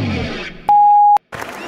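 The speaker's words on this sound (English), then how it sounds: "that beep means we are recording" A steady electronic beep marks the start of a radio show recording, a single pure tone held about half a second, loud and alone between short bursts of studio noise.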